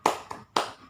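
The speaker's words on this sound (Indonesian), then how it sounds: "kita tepuk semangat dulu ya, supaya belajarnya semangat" A few sharp hand claps ring out in a quick uneven rhythm as a rhythmic spirit clap during a primary-school lesson, close and clear with a short decay after each clap.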